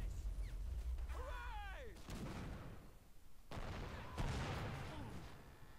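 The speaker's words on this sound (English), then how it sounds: "the troops will keep on throwing grenades" Grenade explosions in the Men of War: Assault Squad video game, with several heavy booming blasts among ongoing gunfire and battlefield noise, loud and continuous over about six seconds.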